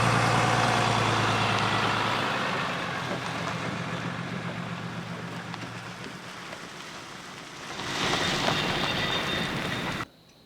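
An RV rolls past on a gravel road, a loud broadband rumble of tires crunching over stones that builds at the start, eases, then surges again before cutting off abruptly near the end, with no talk.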